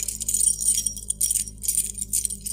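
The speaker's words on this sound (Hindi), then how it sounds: "तभी चाबियों के खनकने की सी आवाज़ आई।" A bunch of keys jangles in repeated bright metallic shakes, several quick rattling bursts over a steady low hum, close and loud, set in an eerie horror story scene.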